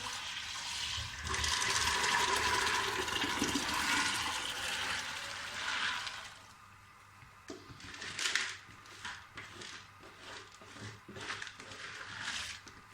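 Water gushes steadily into a pressure cooker holding chopped chickpeas, corn and wheat for a home recipe, a loud continuous pour for several seconds, then softer trickles, splashes and kitchen clatter.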